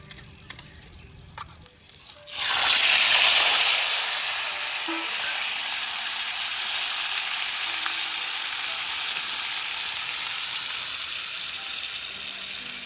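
Onion paste and poppy seed paste hit hot oil tempered with whole cumin, dried red chillies and bay leaves, setting off a loud sudden burst of hissing sizzle that settles into a steady, slightly quieter frying hiss, close up and without speech.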